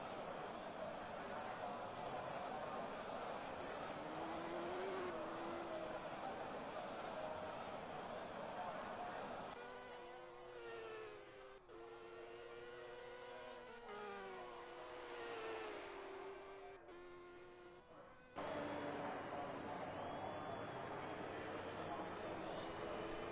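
Racing cars stream out of the pits in a Spanish Grand Prix league race in a racing video game, a continuous whir of engines rising and shifting under steady commentary talk.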